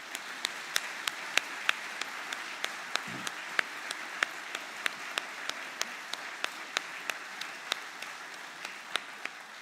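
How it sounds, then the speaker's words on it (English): An audience at a party conference claps for the party secretary. A steady wash of applause runs underneath, and a single set of sharp, evenly spaced claps stands out above it, fairly quiet overall. "he deserves a big round of applause too"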